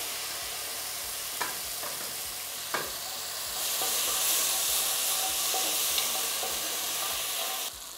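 Peppers and carrots sizzle steadily in a frying pan, a constant close crackling hiss with a few soft clicks of stirring, growing slightly louder midway.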